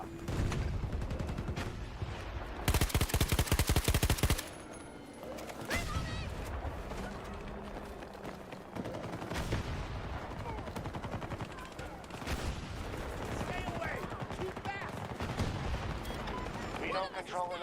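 Heavy gunfire in the video game Battlefield 2042 on the Haven map, with dense rapid bursts and explosive blasts filling the whole stretch, loud and close, one sustained roaring volley in the middle, and in-game voices now and then.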